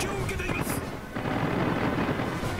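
Aircraft guns strafing an enemy fighter squadron in the World of Warships naval battle game, a dense continuous burst of gunfire and crackling impacts throughout, loud and busy with no pauses.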